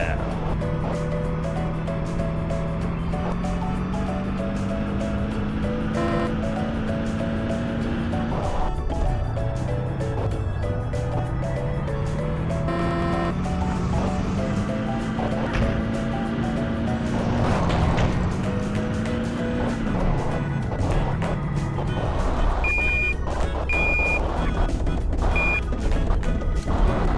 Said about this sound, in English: Drive one of the RCs underneath the car, lower to hell.